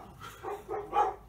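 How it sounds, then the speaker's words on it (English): Dogs barking somewhere beyond a workshop, three muffled barks in quick succession growing slightly louder, distant and faint. "the dogs are kicking off."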